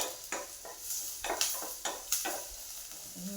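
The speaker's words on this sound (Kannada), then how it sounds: "ಈ ಥರ ಫ್ರೈ ಆಗಬೇಕು" Maggi noodles fry in a pan with a soft sizzle, broken by several sharp scrapes and clinks of a spoon stirring against the metal at an uneven rhythm, close and clear without any voices.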